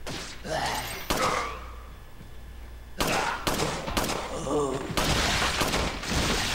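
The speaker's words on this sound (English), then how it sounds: "look how many times I'm shooting this thing" Gunshots in the Resident Evil 4 video game on Gamecube, a series of loud, sharp single bangs spaced irregularly, each followed by a short tail, with speech in between.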